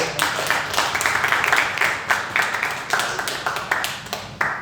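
Church congregation claps together, a steady run of overlapping hand claps with periodic stronger accents, fairly close and filling the room throughout.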